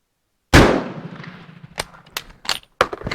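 A Swedish Mauser 96/38 rifle fires PPU ammunition: one sharp, loud, close shot with a decaying echo, followed by several metallic clacks from the bolt.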